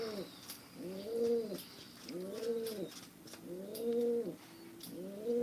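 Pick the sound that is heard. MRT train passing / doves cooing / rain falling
doves cooing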